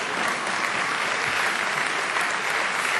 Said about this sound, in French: Ça oui, vous pouvez applaudir aussi.